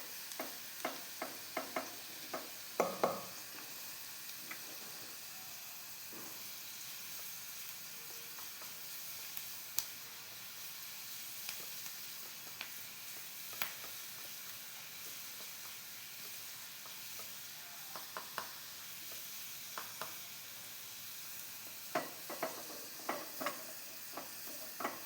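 Onions frying in a pan until reddish-brown for jackfruit erissery, giving a faint, steady sizzle punctuated by soft clusters of spoon clicks and stirring scrapes.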